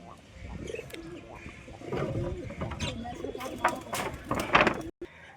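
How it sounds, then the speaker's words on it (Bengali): A flock of pigeons coos close by in soft, overlapping throaty calls amid wing flutters and rustling, with a brief clatter near the end. "পায়রাগুলো।"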